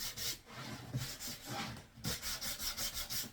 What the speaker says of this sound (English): I'm just going to go around the sides with a bit of sandpaper just to eradicate all the splinters as you get when you're cutting ply